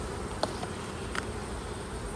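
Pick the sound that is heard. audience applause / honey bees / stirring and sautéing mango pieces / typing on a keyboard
honey bees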